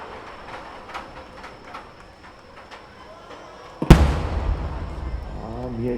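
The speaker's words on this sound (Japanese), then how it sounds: "大玉最後は三重芯でございます。" A large triple-core firework shell bursts at the Nagashima Onsen fireworks show, a sudden loud boom after faint distant crackles, with a long rumbling echo and crowd noise trailing behind.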